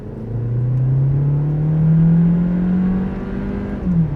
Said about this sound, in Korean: 여기서 잠깐 힘있게 한번 밟아보면